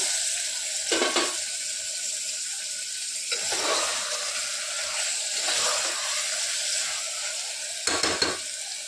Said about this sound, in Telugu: ఇప్పుడు ఇందులో మనం వాష్ చేసి పెట్టుకున్న మటన్ యాడ్ చేసుకోవాలి.